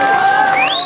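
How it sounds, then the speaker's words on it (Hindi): Loud crowd applause and cheering greeting an Aam Aadmi Party candidate at a political campaign event in Delhi's Kabir Nagar, a dense, continuous roar throughout the brief moment. "जोरदार तालियां।"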